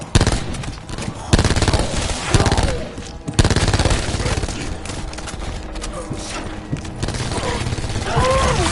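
Loud, sustained video game gunfire with rapid automatic bursts and scattered heavier shots, plus mechanical clatter throughout, and brief game voices mixed in.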